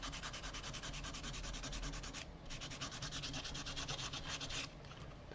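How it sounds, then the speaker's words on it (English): A small piece of sandpaper rubs in quick, rhythmic back-and-forth strokes to erase marks during a DIY guitar pedal build, close and continuous with a brief pause midway; no talking. "it's easiest to basically do with a little bit of a sandpaper is what I use"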